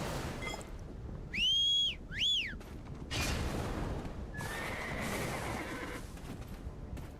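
Two short, high rising-and-falling video game horse whinnies ring out over a steady noisy game background, followed by a rumbling burst and a thin sustained tone.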